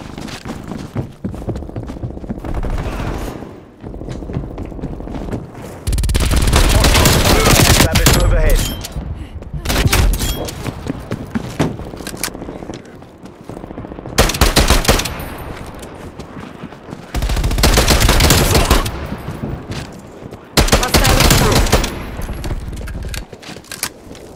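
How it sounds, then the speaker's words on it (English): Enemy sentry turrets in Call of Duty: Black Ops Cold War fire loud, sustained bursts of automatic gunfire in repeated volleys, separated by short lulls with lighter clatter and footsteps. "Multiple enemy sentry turrets active."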